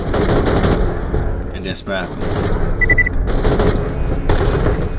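Rapid gunshots ring out in the video game Borderlands The Pre-Sequel, coming in loud bursts of automatic fire with a short break in the middle, while a person talks briefly.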